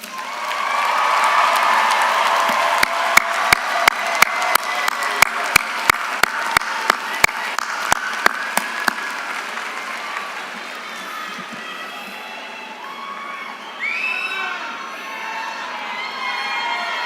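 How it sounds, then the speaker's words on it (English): An audience at a UCF commencement ceremony gives loud, sustained applause mixed with cheering and shouts, along with a run of sharp close claps, before fading into quieter crowd murmur. "graduates, please show your appreciation to them with resounding applause."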